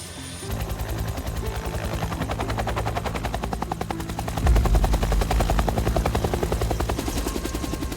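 Firefighting helicopter flying over a wildfire, a loud, close rapid rotor chop that holds steady and swells heavier midway, with no voices.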